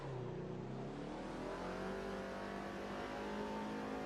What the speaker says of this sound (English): let's take this out for a run and see what this new car is like